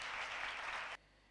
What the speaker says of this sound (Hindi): नाजरीन भी ज़ोरदार तालियों में कलाम को वेलकम करें।